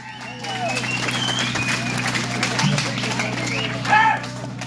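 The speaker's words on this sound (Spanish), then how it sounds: "Ahora les voy a pedir un fuerte aplauso para mi compa el Charrito" Crowd applause and scattered cheers at a Virgin of Guadalupe celebration in Kerman, California, steady clapping mixed with voices and a low musical hum, swelling briefly near the end.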